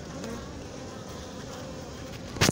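Bees buzzing steadily around a hive, a dense continuous drone of many insects close by, with a brief louder knock or rustle at the very end.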